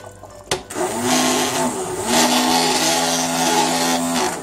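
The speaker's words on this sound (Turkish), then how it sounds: "Bu şekilde güzelce blenderdan geçireceğim." A blender purees hot cooked tomato sauce, a sharp start followed by a loud, steady whirring motor hum with slight shifts in pitch as the blades churn the sauce.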